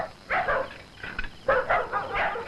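Dogs barking in a rural Malayalam comedy scene, giving about four short, loud bursts of barks in quick succession with brief gaps between them.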